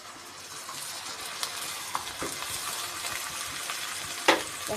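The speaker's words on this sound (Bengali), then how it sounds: "আলুটা ভাজা হয়ে গেছে, এখন আমি একটু পানি দিয়ে দিব যাতে মশলাটা দেওয়ার সময় পুড়ে না যায়।" Fried potatoes crackle and sizzle in a pan after a splash of water, a steady hiss with soft stirring scrapes and a sharper clatter near the end, no voices.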